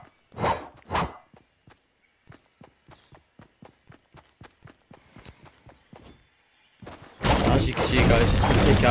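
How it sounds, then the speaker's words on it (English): A crowbar pickaxe is swung against a tree in a video game. Two heavy thuds are followed by a quick, steady run of sharp knocking hits, and then a loud burst of rushing noise takes over. "it's the pickaxe being swung up the tree, and it's the noise it makes"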